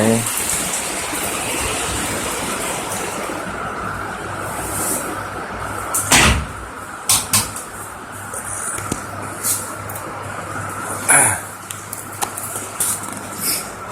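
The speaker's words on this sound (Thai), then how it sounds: "ข้างนอกนี่ฝนตกนะครับ" Steady rain hiss heard from inside a foam house, muffled and continuous, with a few brief knocks and thumps standing out over the constant wash.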